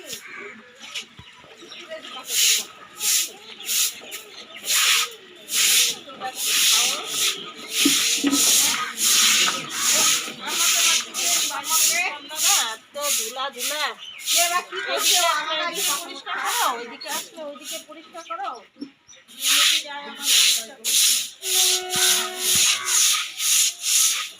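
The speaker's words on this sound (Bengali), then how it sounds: "ঝাড়ু দেওয়া হলো বন্ধুরা" A broom sweeps a floor indoors in repeated brisk, scratchy strokes with a steady back-and-forth rhythm, loud and close, while someone talks over parts of it.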